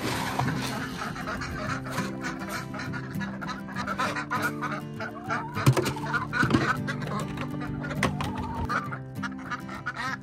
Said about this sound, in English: the ducks are being too loud